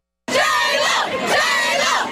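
A crowd of concert fans yells and cheers in the dark outside Madison Square Garden during a Manhattan blackout, a sudden loud burst of massed shouting that stays sustained for about two seconds.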